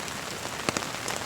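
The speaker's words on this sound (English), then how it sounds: "as the rain keeps pouring, this thing gets wider and wider" Heavy rain pouring steadily onto surfaces as a dense, even hiss, with a few sharper drop splatters standing out during a stormy flood.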